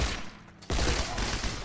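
Gunfire from the World War II shooter Heroes & Generals, a Johnson 1941 machine gun, crackling as a dense burst that jumps up loud after a quieter moment and keeps rattling without speech.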